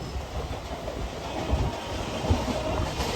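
A local train runs with a steady rumbling roar inside the carriage and a few clacks from the wheels on the rails, loud and continuous, with no voices.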